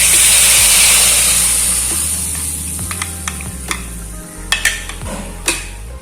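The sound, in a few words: stirring ground masala frying in a pan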